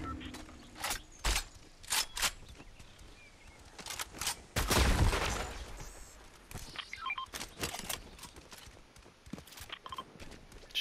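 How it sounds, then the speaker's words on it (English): Gunfire in Fortnite: a string of sharp, separate shots in uneven bursts, with a denser cluster near the middle, fairly loud and close against a quiet background. "Shots northeast."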